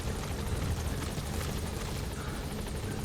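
A helicopter in the video game Metal Gear Solid V: The Phantom Pain on PS3 flies close by, its rotor pulsing as a steady rhythmic chop over a dense engine roar, loud and continuous with no talk.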